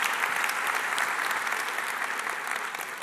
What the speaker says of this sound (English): Big applause for Guido Smit and ING.